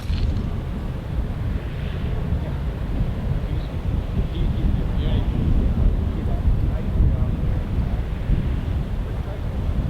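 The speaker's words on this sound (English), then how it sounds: "The wind is so tough here." Steady, roaring wind buffets the microphone across an open golf course fairway, a continuous low rumble that stays loud for the whole stretch with no pauses.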